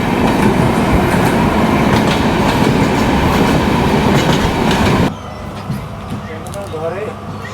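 The Ekota Express train rumbles loudly and steadily with clattering wheels on the rails, then drops abruptly to a quieter, muffled interior hum.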